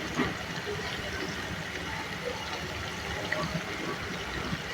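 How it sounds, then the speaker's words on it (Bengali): Potato finger fries frying in oil in a pan give off a constant soft bubbling sizzle, a dense even hiss without pauses, moderately close with no clear voices. "তো এভাবে এপাশ থেকে ওপাশ উল্টিয়ে দিয়ে দেওয়ার পর এটাকে আরও কিছুক্ষণ ফ্রাই করে নেব।"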